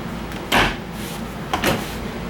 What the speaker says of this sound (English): You have sliding drawers in the kitchen.